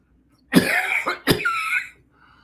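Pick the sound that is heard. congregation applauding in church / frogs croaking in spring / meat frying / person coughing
person coughing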